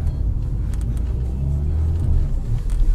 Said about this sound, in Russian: так вот и нужно буксовать, то есть на драйве не надо, чтобы скоростя плясали